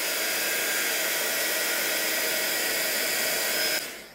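Heat tool melting clear embossing powder: a loud, steady blower roar that runs continuously and then cuts off abruptly near the end.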